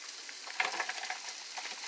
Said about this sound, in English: you sauteing Brussels sprouts